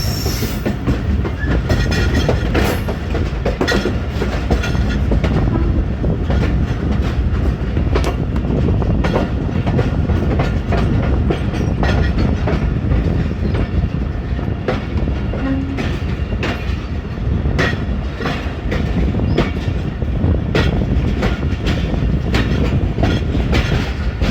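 Jaffar Express passenger train running between Attock and Domeli in foggy winter weather: a loud, continuous rumble with steady clickety-clack of wheels over rail joints, heard from inside the coach throughout, no voices.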